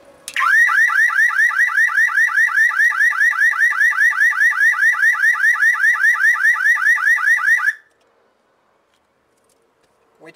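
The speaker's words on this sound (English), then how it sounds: "if we introduce ground, we're simulating the door being opened, and if the rest of the circuit is good, it should trigger the alarm" A car alarm is set off when ground is applied to the passenger-side door jamb switch wiring, simulating an opened door. It wails loudly and close in a rapid repeating warble for several seconds, then cuts off to near silence.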